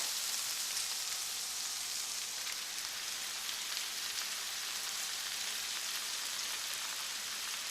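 Cabbage tipped into a pan of onions frying for a homestyle haluska dinner gives a steady, even sizzle and crackle with no break, fairly close and unaccompanied by speech.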